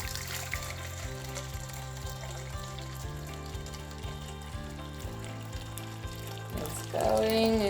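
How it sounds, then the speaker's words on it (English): A litre of boiling water pours steadily into a big bowl for ramen broth, a continuous close splashing stream under steady rhythmic background music that swells near the end. "Measure out 1 liter of boiling water."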